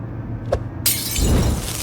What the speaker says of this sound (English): It shattered upon impact, setting the vile thing on fire.